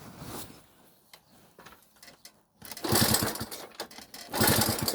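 A Delta moped engine is cranked cold but does not catch: bursts of rapid mechanical chugging, a short one at first, then two longer louder runs separated by quiet, with faint handling clatter between.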